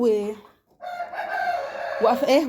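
Chickens and a rooster in a coop cluck and crow in short, loud bursts close by, with a brief pause between calls and no talk.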